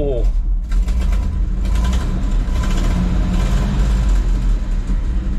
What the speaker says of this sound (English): That exhaust leak is not worth fixing, but I wish I could hear this thing without the exhaust leak like one time.